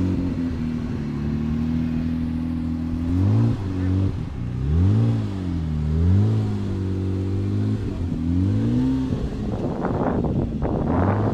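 A car engine revs in several rising and falling surges at a car picnic, moderately loud and close, with people talking over it and a busier stretch of activity near the end.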